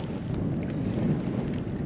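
Steady wind roars and buffets the microphone on open water during kayak fishing for tautog, a continuous broadband rush with a low rumble that stays loud and unbroken throughout.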